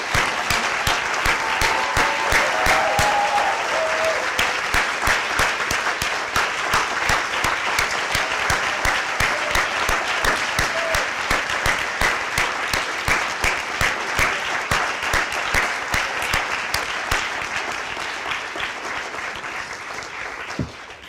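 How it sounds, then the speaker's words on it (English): Sustained, dense applause from a large conference audience honouring the volunteers at a closing ceremony, steady and loud throughout with no speech over it. "Let's give them another big round of applause."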